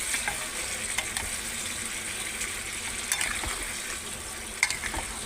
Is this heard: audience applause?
no